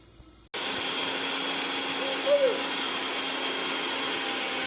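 A kitchen mixer grinder runs steadily, whirring as it purees onion, tomato, ginger and garlic into paste, the loud motor noise starting abruptly after a brief quiet moment and holding constant with a small surge midway.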